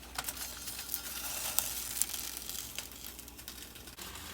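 Tomatoes and tomatillos roasting on foil over stovetop burners, a close, steady sizzle with crackling pops and faint foil crinkles, with no talk.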